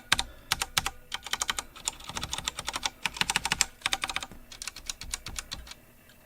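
Rapid clacking keystrokes on an inexpensive LEOBOG K23 mechanical keyboard with linear-feel switches, typed in quick uneven bursts up close.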